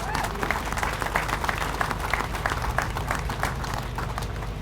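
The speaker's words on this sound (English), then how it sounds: "we should have probably hold their applause" Audience applause for state representatives at a regional law enforcement memorial groundbreaking, steady dense clapping from a crowd sustained throughout, fairly close and even in level.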